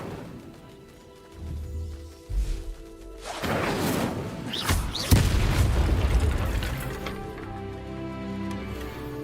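A fire spell is cast in the video game Hogwarts Legacy, a sudden whooshing burst that swells into a loud, sustained roaring blaze with booming impacts, alone.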